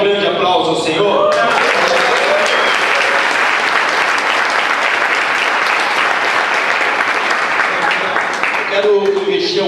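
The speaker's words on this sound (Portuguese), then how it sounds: "Você pode dar um grande aplauso ao Senhor?" A church congregation at a couples' retreat bursts into loud, sustained applause filling the room, with a voice speaking briefly at the start and again near the end.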